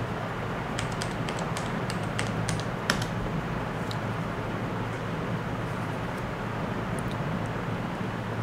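Password typed on a computer keyboard at a Windows login screen, a quick burst of light key clicks early on, then a few scattered taps, all faint over a loud steady hum of fan noise.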